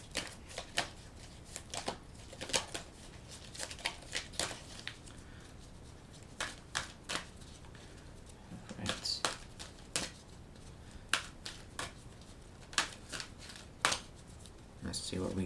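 Oracles of Shadows and Light oracle cards being shuffled by hand, a series of quick crisp riffling bursts repeating irregularly, close and fairly quiet.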